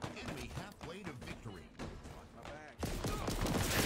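Rapid bursts of gunfire in a first-person shooter video game crackle under overlapping voices chatting, ending in a louder, denser stretch of shots.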